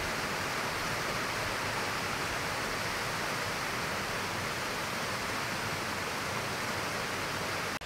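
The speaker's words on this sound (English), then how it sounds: "I'm hearing the sounds of water." Outdoor running water in a chilly evening setting, a steady broadband rush like a stream or small waterfall, continuous and even with no voices.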